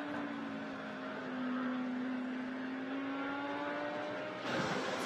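GT race cars, red Ferraris and Porsches, circulate at Suzuka, engines whining in a sustained, slowly bending tone at moderate distance, with a brief louder surge near the end.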